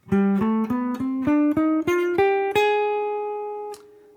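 A clean, plucked jazz guitar plays a short rising line of single notes in a Baroque-style improvisation, each struck separately, ending on a long ringing note that fades out.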